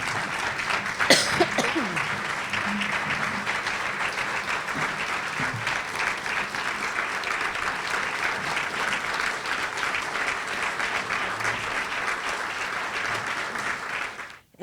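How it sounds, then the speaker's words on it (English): An audience at a John Marshall 264th birthday celebration gives award winners a long, steady round of applause. The clapping stays dense and even throughout, with a few louder claps and faint voices beneath, then cuts off abruptly at the end. "Let's give them a special round of applause of gratitude for all they've done to enrich our community"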